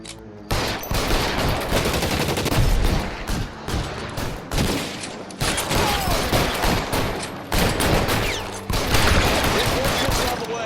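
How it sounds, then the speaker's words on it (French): Gunfire in the video game L.A. Noire as a police shootout: dense, loud bursts of shots run nearly continuously, with brief gaps, while a player talks over it. "Je tire à côté, je tire à côté."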